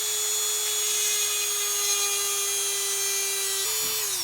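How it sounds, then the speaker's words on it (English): A Dremel with a pointed bit starting a hole in motorcycle handlebars on a Husqvarna Vitpilen 401, heard as a steady, high, close whine with a brief dip in pitch near the end. "So I'm going to use a Dremel with a little pointy piece here."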